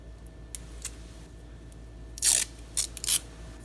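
Paper torn with the edge of a card while making a handmade travelers notebook, giving a few short, close ripping bursts near the end after quiet faint scrapes.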